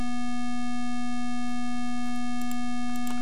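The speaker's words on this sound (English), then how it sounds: "So that was just a very simple example, just with this crude constant beep here." A steady, unbroken electronic beep tone from an Amstrad CPC+ playing digital sound via DMA, loud and unchanging throughout, with a few faint clicks near the end.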